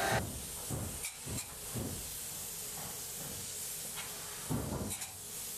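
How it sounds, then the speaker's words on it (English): Spray foam insulation hisses from a spray gun while sealing the tops of inside walls under a house roof, a steady close hiss broken by a few short bursts and pauses. "We're spraying a little bit of foam to seal the top of the inside walls"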